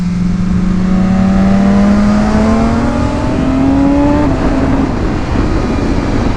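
Adventure-style trail motorcycles lap a race circuit, one engine close and loud with a rising whine that climbs steadily as it accelerates, then drops off over a constant roar of wind and road noise.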